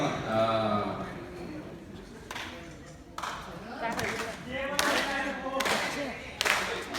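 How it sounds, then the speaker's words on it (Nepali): Clapping rings out in bursts at a Deusi gathering, sharp close claps spaced through the second half while voices talk over them. "यो तालीको चाहिँ कस्तो छ होला नि"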